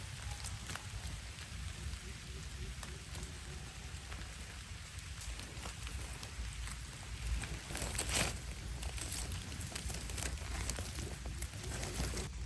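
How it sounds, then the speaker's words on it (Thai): Steady rain falls across the whole stretch in a forest, a dense even patter with a low rumbling background and no voices. "ฝนตกแล้วครับ"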